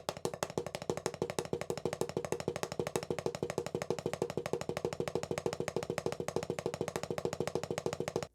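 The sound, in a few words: drum double strokes played with wrist and fingers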